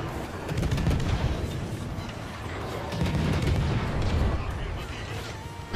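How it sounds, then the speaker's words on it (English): Heavy naval gun salvos in a World of Warships ranked match aboard the French destroyer Kleber, booming repeatedly in dense bursts that roll on continuously with a loud, rumbling low end throughout. "The burst fire on this ship is insane."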